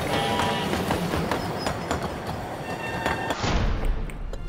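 A passenger train runs on rails in a period spy drama set on the route from Vladivostok to Xinjing, a dense rumbling clatter with rhythmic knocks that fades toward the end, heard without speech.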